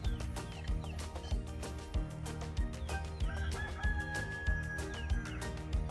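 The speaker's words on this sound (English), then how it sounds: "the chickens have arrived." Chickens clucking and a rooster crowing outdoors on a plot in Samoa, over a busy, rhythmic musical backdrop, fairly loud throughout.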